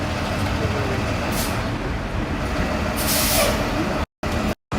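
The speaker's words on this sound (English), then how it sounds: "The soothing sounds of New York City traffic." Dense New York City street traffic rumbles in Brooklyn's Bushwick and Williamsburg, with a loud, steady roar broken by two sharp hissing bursts of bus air brakes and brief dropouts near the end.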